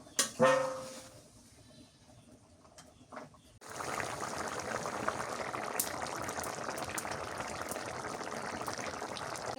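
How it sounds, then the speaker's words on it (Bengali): Eggplant curry boils in a pot with a steady, close bubbling hiss. It follows a few seconds of quieter kitchen clatter. Nobody talks. "বেগুনের তরকারিটা ভালো ফুটে গেছে"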